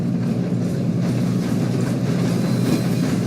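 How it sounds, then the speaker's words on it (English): Steady rumble of a train rolling on rails in Red Dead Redemption 2, a continuous low clatter of wheels and carriages up close, loud and unbroken with no talk. "We have to stop this train."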